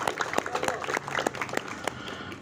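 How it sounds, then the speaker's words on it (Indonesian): Audience clapping at a government handover of aid to fishermen's groups, with scattered sharp claps over a steady murmur of voices, moderately loud and fairly close. "Boleh tepuk tangan dulu Bapak Ibu sekalian."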